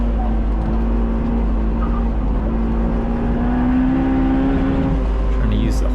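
Supercharged Honda S2000 lapping a race track, its engine droning steadily with a sustained tone that rises slightly toward the end, loud and close throughout under faint wind and road noise.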